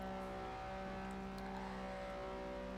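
A Lamborghini Miura SVJ driven in the racing video game Forza Horizon 4, its engine holding a steady, humming drone at low volume with no breaks.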